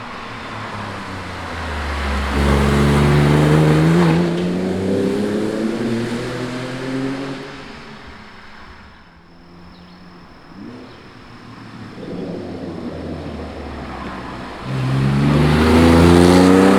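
A Porsche 996 911 Carrera 4S engine revs hard while driving on open roads, loud and close, rising and falling through gear changes with a brief lull mid-way before surging again.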